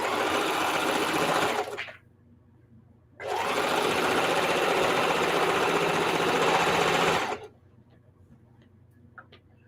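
A sewing machine set to a 3 mm stitch length runs through thick Christmas tablecloth fabric in two close bursts, about two seconds and then four seconds of fast, even ticking, with quiet between them.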